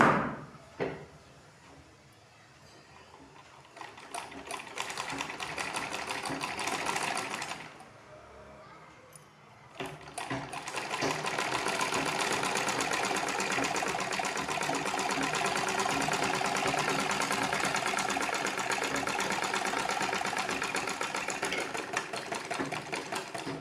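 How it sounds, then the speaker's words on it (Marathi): An electric sewing machine stitches fabric lining for a cloth pouch in several close runs, one short stretch, a pause, then a long steady whirring run with rapid needle chatter. "पहिल्या शिलाईपासून ह्या दाब टीपपासून आपण खाली आता 1 इंचावर खाली शिलाई देणार आहोत"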